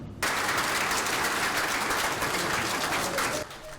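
A crowd bursts into sudden loud applause and acclaim in a hall, a thick sustained roar of clapping that starts abruptly and drops off just before the end.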